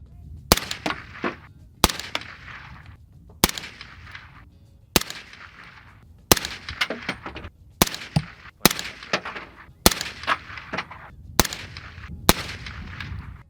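Gunshots from a Sig firearm fired at a human-sized torso target: about ten sharp, loud reports at a fairly steady pace with short gaps between them, each followed by a brief decay, with no talk.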